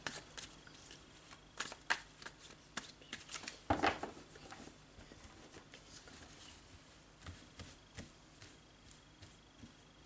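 Tarot cards are shuffled and dealt onto a table for a reading, soft quick riffles and flicks in irregular bursts with occasional sharper slaps, faint and close.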